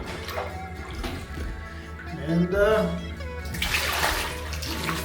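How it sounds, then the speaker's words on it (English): Water poured by hand from a container to flush a toilet Thai style in a rural Isan village bathroom, a close, loud continuous splashing gush with a person talking over it. "just flush the toilet like that"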